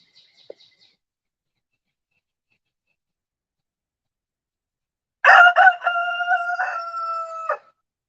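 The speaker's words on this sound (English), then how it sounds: "he's a good looking rooster" A single rooster crows loudly and close by after several seconds of near silence, preceded by faint distant chirps.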